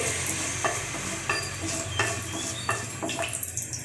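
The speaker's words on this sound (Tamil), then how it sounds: "கடுகு வந்து பொரிய ஆரம்பிச்சிட்டு" Mustard seeds spluttering in hot oil in a pan, a constant sizzle broken by sharp pops and occasional clinks of a stirring utensil against the pan, close up with no voices.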